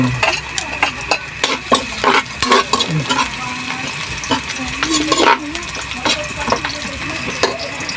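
Garlic stirred and frying in a pan for an outdoor boodle fight, with steady sizzle and repeated scraping strokes of a utensil, close and fairly loud, with faint voice-like sounds now and then.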